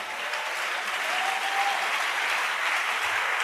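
A church congregation at a pastor's service claps loudly in dense, sustained applause for the Lord, steady throughout with no clear talk.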